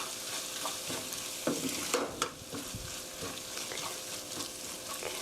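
A spoon or spatula scrapes and stirs curried onions seasoned with ground black pepper in a pan with the heat off for a Korean onion rice bowl, giving close, uneven strokes over a faint steady hiss.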